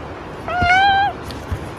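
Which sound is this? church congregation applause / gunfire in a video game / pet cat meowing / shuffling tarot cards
pet cat meowing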